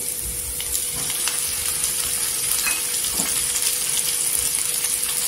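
Chopped tomatoes hit golden fried onions in a hot pan, a continuous moderate sizzle with a faint steady hum beneath and light stirring clicks.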